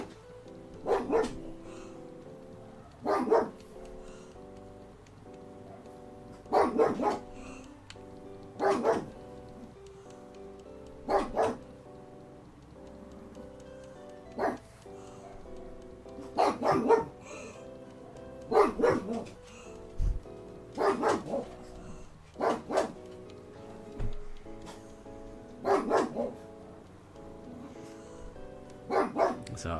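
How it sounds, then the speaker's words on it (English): Daruk, a pet dog, barking back at a neighbourhood dog: short bursts of several barks every few seconds for about half a minute, fairly loud and indoors. "apologies if you can hear Daruk barking"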